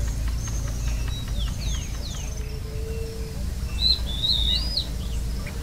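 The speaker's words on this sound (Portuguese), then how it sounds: "podemos registrar várias espécies de aves, a exemplo desse lindo tico-tico rei cinza" A pileated finch sings in Brazilian countryside, several thin, high chirps and short whistled phrases, with another bird's call and a continuous insect hum underneath.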